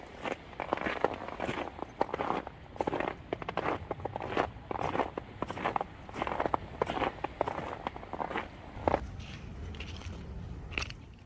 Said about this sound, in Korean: 발소리를 들으며 바닷가를 걷는 맛이 일품입니다